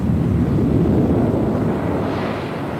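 A plane's engine roars steadily and loudly during takeoff, a broad continuous drone that eases slightly toward the end.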